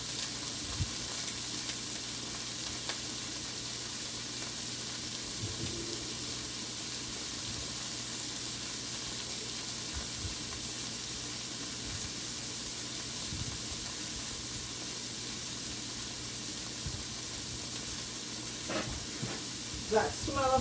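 Onions for chop suey frying gently in a pan over low heat, giving a soft, steady sizzle and hiss that runs throughout, with faint occasional stirring clicks.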